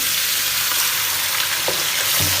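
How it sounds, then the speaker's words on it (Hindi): Beef pieces frying in hot oil in a pan for a dhuan dahi gosht, giving a steady, dense sizzle that holds at an even level from start to finish, with a couple of faint stirring knocks and no voices. "इसके अंदर हम ऐड करेंगे 1 kg मीट, बीफ लिया यहाँ मैंने।"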